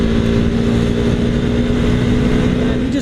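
A motorcycle engine droning steadily under load as the bike climbs a steep mountain highway grade, loud and close with wind rush and no talking.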